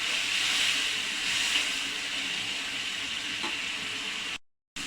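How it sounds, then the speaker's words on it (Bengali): Spices with turmeric and salt sizzle and hiss steadily in a pan as they are fried down, close and even for several seconds before a sudden cut to silence, with no voices. "মশলাটা আমি কষাই নেব।"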